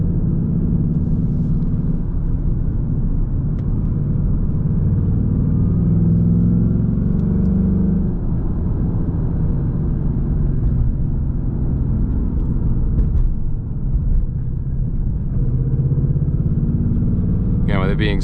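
A 2024 Ford Mustang GT is driven hard along a tight, curvy road, its V8 producing a continuous deep rumbling drone that swells under throttle, heard from inside the cabin beneath steady talking.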